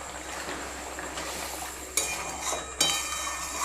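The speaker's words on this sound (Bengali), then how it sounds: "এবার আমি পনিরগুলো এর মধ্যে দিয়ে দিচ্ছি।" Paneer cubes tipped into simmering butter masala gravy and stirred, soft bubbling and scraping in a pan with two sharp utensil clinks against the pot near the end.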